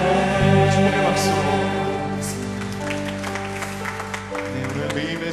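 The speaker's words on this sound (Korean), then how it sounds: "축복의 박수." A congregation at a church worship service claps over sustained keyboard chords, a soft wash of applause beneath the music that gradually thins out.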